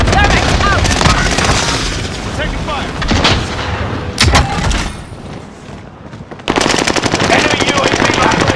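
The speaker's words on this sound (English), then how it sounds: "Taking heavy fire here." Gunfire in a Call of Duty video game: loud, dense machine-gun bursts and heavy booms, a brief lull near the middle, then another sustained burst of rapid fire.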